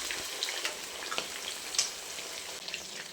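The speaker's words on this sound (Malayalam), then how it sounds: "റോസ്റ്റ് ചെയ്യാൻ വേണ്ടി മാറ്റി വെച്ചിരുന്ന ചിക്കൻ കഷ്ണങ്ങളൊന്ന് വറുത്തെടുക്കാം." Marinated chicken pieces fry in a pan of oil with a soft, steady sizzle sprinkled with small pops and crackles, heard close up at a fairly low level with no voices.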